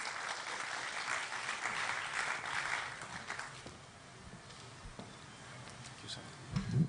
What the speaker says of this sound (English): Can we clap for him a little more?